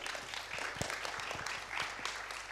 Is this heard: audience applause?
yes